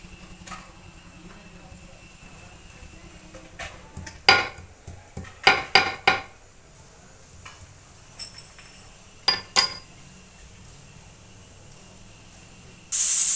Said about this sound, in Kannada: ಬೆಳ್ಳುಳ್ಳಿನ ನೀಟಾಗಿ ಸಿಪ್ಪೆ ಬಿಡಿಸ್ಕೊಂಡು ಜಜ್ಜಿಟ್ಕೊಳ್ತಾ ಇದ್ದೇನೆ